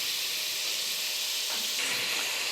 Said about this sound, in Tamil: இப்போ நல்லா வதக்கிக்கலாம். நல்லா வதக்கி நல்லா கலர் மாறுற வரைக்கும் வதக்கலாம்.